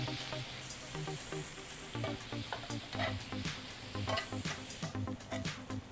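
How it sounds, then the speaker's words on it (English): Swiss chard sautéing in unsalted butter in a restaurant kitchen pan, a soft even sizzle with scattered stirring clicks and scrapes, fairly quiet and close. "And you're just cooking the Swiss chard till it's wilted down and tender."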